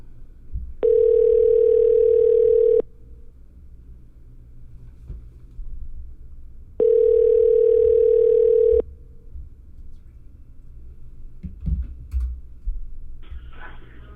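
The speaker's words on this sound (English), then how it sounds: "we'll just give him a call here and see if he picks up" A telephone call rings out on the line with two long, steady single-tone rings spaced several seconds apart. Faint room noise and light clicks fill the gaps between them.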